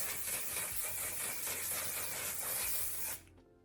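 Aerosol makeup setting spray misted onto a face: one continuous, close, loud hiss lasting about three seconds, then stopping abruptly into near silence.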